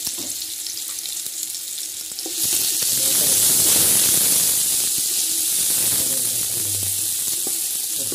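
Sliced onions frying in hot oil for chicken biryani, a faint stir at first, then a loud, steady sizzle that swells and holds, close up with no talk.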